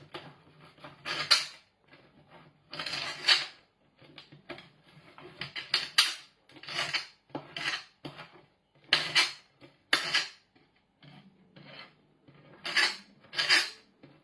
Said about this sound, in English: chop them up into small pieces